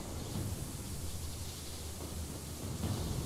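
Rumbling storm thunder from a charging storm engine in The Elder Scrolls Online, a steady broadband roar with low rolling rumble that swells slightly near the end, no speech.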